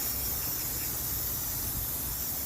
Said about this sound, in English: I'm just going to spray the areas that is not going to mess up electrical equipment.